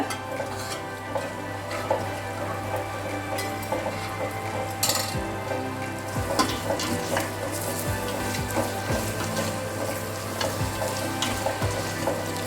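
Mutton and masala stirred in a frying pan while cooking biryani: a steady scraping of the spoon against the pan over a low sizzle, with occasional metallic clinks, close and continuous throughout.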